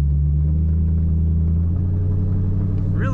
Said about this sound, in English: Sound of this car.